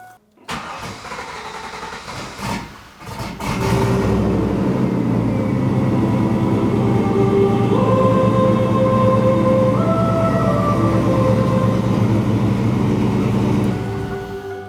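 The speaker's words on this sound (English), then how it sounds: "Sounds like a car." A turbocharged Z28 Camaro engine cranks with a few rough bursts, then catches and settles into a loud, steady idle, close by, with gradual pitch shifts as it runs for about ten seconds.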